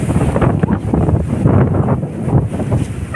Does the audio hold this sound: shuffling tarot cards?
no